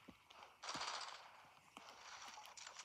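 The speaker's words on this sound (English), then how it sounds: "Who the heck is shooting?" Gunfire from the video game Fortnite: bursts of rapid automatic shots, a dense burst near the start and another later, at moderate loudness with no talk.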